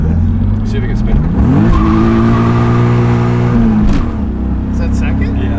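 A turbocharged car revs hard and spins its tires, the engine note climbing in a loud sustained rise, holding, then dropping back, with tire squeal layered over it close by.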